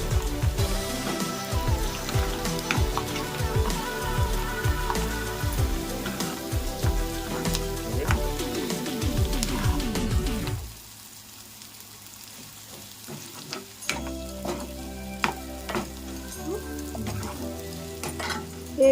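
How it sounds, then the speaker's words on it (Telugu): Curry leaves sizzle and crackle in hot oil as a tempering for tomato chutney, with steady frying hiss and stirring scrapes in a pan through the first half, then a quieter, sparser sizzle with occasional pops. "కరివేపాకు కూడా వేస్తానండి, ఇది కూడా బాగా వేపాలి, బాగా తిప్పుకుంటూ ఉండాలండి"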